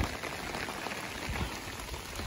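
Rain patters steadily on an umbrella on the Appalachian Trail, a close, dense and even drumming of drops with no voices.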